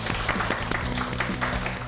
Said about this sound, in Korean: 박혜은 대표님을 큰 박수로 맞이해주세요.